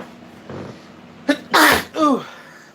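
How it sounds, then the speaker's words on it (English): A person sneezes indoors while stirring up dust among pots and pressure canners, a quick high burst followed by a second sharp sneeze, loud and close. "I sneezed."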